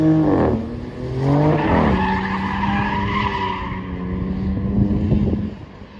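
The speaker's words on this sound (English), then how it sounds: "you can get a sample of how this new high output six-pack is going to sound" A new Dodge Charger with a high output twin-turbo six-pack engine revs hard during burnouts, its exhaust rising and falling in loud sweeping pitches mixed with tire squeal, close and sustained.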